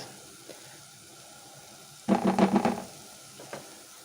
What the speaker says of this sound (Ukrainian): Нам необхідно трішки її піджарити.